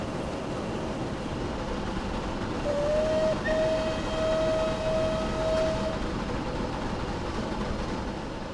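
A Merchant Navy Class steam locomotive in Train Simulator sounds its whistle for about three seconds, a clear sustained tone over the loud, steady rumble of the train running at speed.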